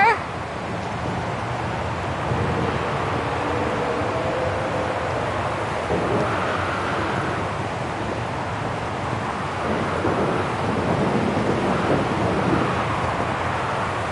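A thunderstorm in Syberia: The World Before, with a continuous wash of wind and rain under low, rolling thunder rumbles, steady and fairly loud throughout.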